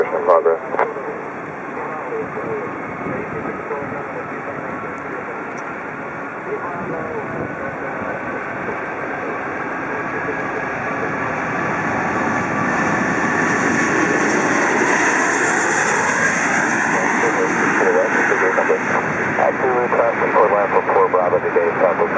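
A Korean Air Airbus A380-861 jet takes off up close from runway 24 left, its engine roar building steadily louder with a rising whine, while radio chatter from air traffic control runs underneath.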